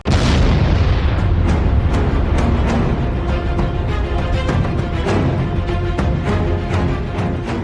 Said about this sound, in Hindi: काल बना क्लस्टर, एक बम में 100 बम।